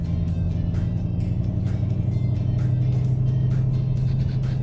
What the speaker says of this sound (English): even with the factory exhaust, you get a nice tone